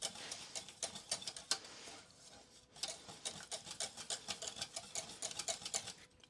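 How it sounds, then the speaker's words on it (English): A thick chocolate mixture whisked in a pot off the heat, producing fast, regular metallic ticks and scrapes of the whisk against the pot, quiet and close, pausing briefly midway before resuming. "just gonna whisk it for a little bit off the heat"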